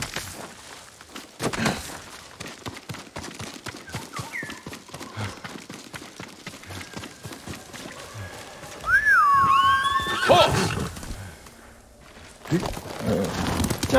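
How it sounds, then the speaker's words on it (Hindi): A horse neighs loudly in the Ghost of Tsushima video game, a rising and falling whinny in the middle, with hoofbeats, wind and game ambience throughout and no talking. "चल घोड़े,"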